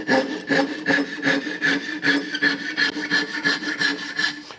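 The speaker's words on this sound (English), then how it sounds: "you can go to your rip saw and you can see how much faster that cuts compared to the dovetail saw" A Japanese pull rip saw cuts through soft wood in quick, even rasping strokes, about three or four per second, close and steady with no voices.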